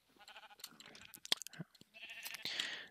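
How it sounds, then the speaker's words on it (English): Minecraft sheep bleat in a game after being hit, with short wavering bleats mixed with blocky game sound effects. The bursts are moderately loud, and no one talks over them. "wrong button, accidentally hitting sheep."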